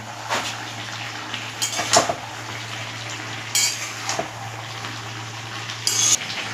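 A cooking pot lid is lifted off and handled while Malabar spinach with fish heads cooks, bringing a few sharp metallic clanks and scrapes over a low steady simmering hum.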